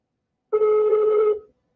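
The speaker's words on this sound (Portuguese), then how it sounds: "Tá ligando o telefone" A telephone rings during a call, a single steady ringback tone lasting under a second, clear and alone after silence.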